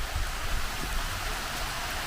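Sudden rain falls during hot, sunny weather, making a steady, dense hiss of drops on surfaces that stays even and fairly loud throughout, with no voices.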